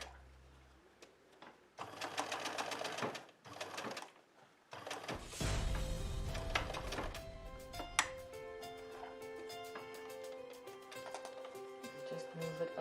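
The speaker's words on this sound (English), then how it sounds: "So we're going to sew from here to there, leave that middle piece open" A sewing machine stitching fabric for a reusable face mask, running in bursts of rapid mechanical whirring with short pauses, close and clear, with no talk.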